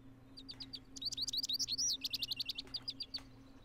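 Bird in the fishing video game Fishing Planet, a close, bright run of quick high chirps and trills in a fast rhythm over a low steady hum, with no voices.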